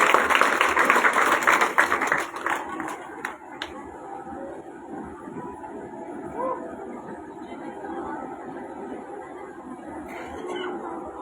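Crowd at an outdoor election rally in Bahadurgarh clapping to welcome a speaker, a loud burst of applause that fades after a few seconds into quieter ambient crowd noise.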